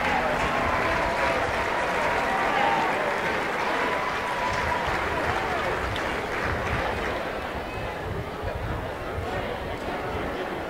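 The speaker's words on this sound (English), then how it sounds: "Give that guy a big round of applause." Outdoor crowd applauding and cheering the world champion of the 2016 Pig N Ford races, a loud, sustained roar of clapping and crowd noise that holds steady for the whole stretch.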